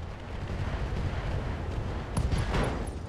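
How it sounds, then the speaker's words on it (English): An SRM ammunition explosion in the RogueTech mech combat game destroys a mech's left torso, heard as a dense, continuous rumbling blast with a brighter crackling burst near the end, loud and unbroken throughout. "SRM ammo explosion there, destroying that left torso."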